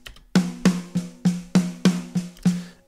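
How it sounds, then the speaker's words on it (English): Snare drum from an ML Drums mix struck alone eight times at a steady, moderate pace, each hit loud and close with a sharp crack and a short ringing tail. "Let's have a listen to the snare."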